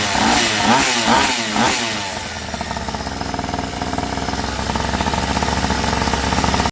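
Mini motorbike engine running after a carburettor replacement: a few loud revs at first, then a steady, close, chugging idle with a rapid putter that continues until an abrupt stop.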